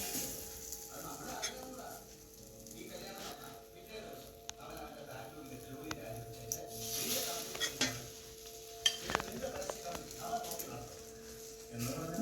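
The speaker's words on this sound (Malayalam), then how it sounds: "ഇനി നമുക്ക് ബാക്കിയിരിക്കുന്ന ബ്രെഡുകൾ കൂടി പൊരിച്ചെടുക്കാം." Bread slices frying in a pan for a bread roast, heard as a quiet steady sizzle with occasional pan and utensil clinks, close by, under intermittent talking.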